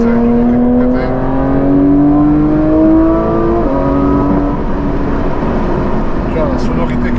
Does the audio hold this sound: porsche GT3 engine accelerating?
yes